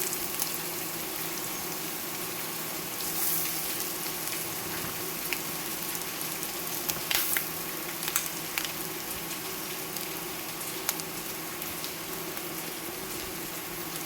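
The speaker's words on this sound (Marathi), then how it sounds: "कांदो बरो दवळून घेवपाचो। कांदो तांबडो जालो की भितर सोय आनी इल्लीशी हळद घालप।" Onion, soy chunks and turmeric frying in a pan give a steady, continuous sizzle with a faint crackle throughout, close and moderately quiet, with no voices.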